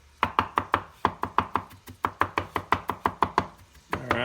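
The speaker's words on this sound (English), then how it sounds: "chop this up, kid, like they do at the hibachi" A knife chops garlic on a board in a quick hibachi-style rhythm, about twenty crisp, close knocks in fast bursts with short pauses between them, before a voice starts at the end.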